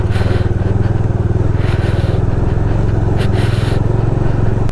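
A motorcycle engine drones steadily and loudly while riding an off-road mountain trail in Manang, Nepal, a continuous close throbbing rumble with faint wind and rattling over it and no pauses.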